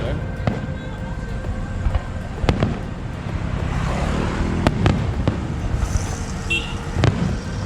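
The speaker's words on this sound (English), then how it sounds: "These guys are stopped in the middle of the street right here just to check out the fireworks." Fireworks going off over a city street, with repeated sharp distant bangs and pops over a steady roar of traffic and crowd noise, and people talking faintly in the background.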